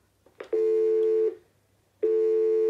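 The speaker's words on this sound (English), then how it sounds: "I should still have a dialing tone." A telephone tone from an analogue handset plugged into a VoIP hub or router in place of a landline master socket: a faint click, then two steady, loud, close tones separated by a short gap. No talking.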